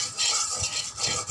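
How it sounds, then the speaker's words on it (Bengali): Oil being stirred around a hot kadai, with a steady scraping and swishing spatula against the metal and a faint sizzle underneath. "আমি এটাকে পুরো কড়াইটার মধ্যে নেড়ে নেব"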